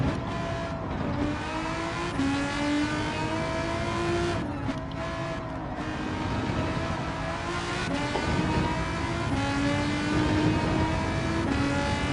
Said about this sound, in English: The sound of this car is piercing my ears.